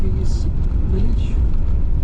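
Car rolling slowly over cobblestones through a Portuguese village, a continuous low rumble and road noise inside the vehicle, with a voice talking over it.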